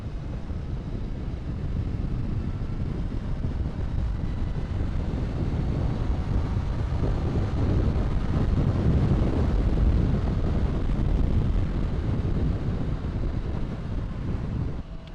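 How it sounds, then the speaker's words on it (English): Strong wind blows outdoors in the countryside, a loud, continuous low roar buffeting the microphone throughout with gusts swelling toward the middle and no talking. "What is up with this wind?"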